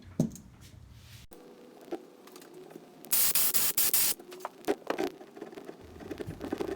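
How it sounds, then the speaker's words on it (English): Compressed air bursts from an air compressor nozzle pushed under the rubber grip of a Scott Bonnar Model 45 mower handlebar, a loud broadband hiss lasting about a second amid quieter workshop handling noises. "so I can get my nozzle of the air compressor under"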